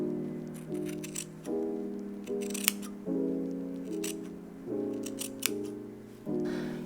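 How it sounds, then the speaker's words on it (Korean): Scissors snip through the edge of a knitted fabric for steeking, leaving four stitches; a series of soft, close crunching cuts come in a steady rhythm with faint rustles between them, with no talk. "4코만 남기고 가위로 잘라볼게요."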